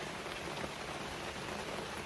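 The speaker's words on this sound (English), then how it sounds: "it is raining" Steady rain falls in a dense, even hiss of drops hitting a surface, close and constant, with no voices, at a campsite on the Lake Superior coast in Minnesota near Split Rock Lighthouse.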